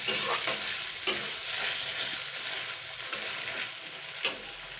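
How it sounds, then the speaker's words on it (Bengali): Taro leaves fry with onion, ginger and garlic as they are stirred, giving a continuous close sizzle broken by repeated scraping strokes and occasional sharper knocks of the spatula on the pan. "আমি কচু শাকটা ভালো করে একটু নাড়াচাড়া করে নেব"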